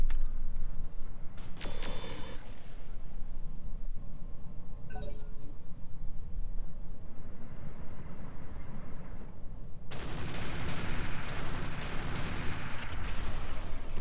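Vehicles firing weapons in the RogueTech mod of BattleTech: a steady rumble of distant fire with sharp metallic cracks and clinks at first, then a louder, dense barrage of impacts and blasts building near the end.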